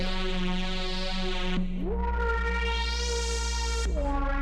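Arturia JUP-8000 V software synthesizer notes gliding between pitches, with delay echoes and a washy reverberant tail smearing each note into the next; no voices.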